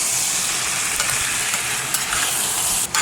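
Mushrooms fry in bubbling sesame oil with cumin seeds and are stirred in the pan, giving a steady, close, loud sizzle with occasional scraping and no talking.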